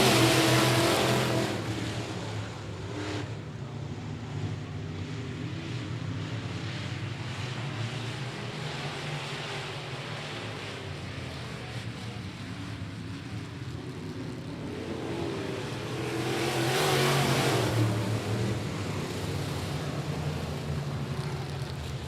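Modified race cars at I-37 Speedway accelerating on a green-flag restart, a broad engine roar that passes, dips to a steady drone, then swells loudly again as the field comes by.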